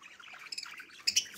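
Parrots calling at a bird market: a few short, high chirps and squawks, faint and spread across a quiet background.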